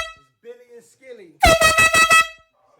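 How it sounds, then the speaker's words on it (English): A loud, harmonic air horn blast sounds for about a second in a recording studio, with brief pulsing bursts, and quieter voices come before it. "Where the air horn at"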